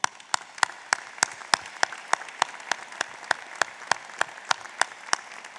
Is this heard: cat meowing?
no